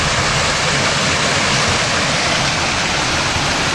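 Water pours steadily through guttering into a stone pool in birch woodland, a loud, constant close rushing splash with no break.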